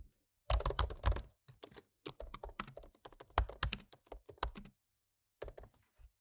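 Fast typing on a computer keyboard while a web form is filled in, dense close bursts of key clicks broken by short silent pauses, with no voice present.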